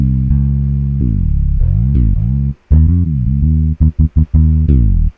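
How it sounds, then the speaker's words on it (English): A CMP D finger bass synth patch plays a sustained melodic bass line with smooth portamento glides between notes, some held long and others short and staccato near the end, loud and alone with no talk. "that's what I've done to make that CMP D finger bass sound like this"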